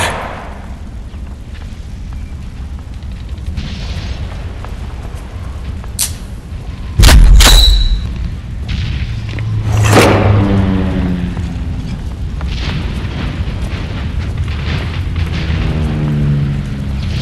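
Grenade blasts in a World War video game, a loud sharp boom midway followed by a rumbling second explosion, over steady battlefield noise with shouted voices.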